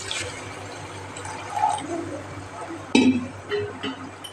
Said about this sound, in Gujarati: તો આપણે પાણી નાખી દઉં થોડું.